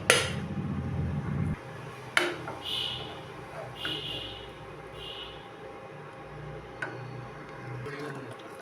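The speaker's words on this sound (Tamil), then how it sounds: "நம்ம குக்கரை திறந்து பார்க்கலாம்." A pressure cooker lid is opened, starting with a short rush of released steam, then a sharp metallic clack and a few lighter clinks of the lid and pot, faint and close, with quiet talk.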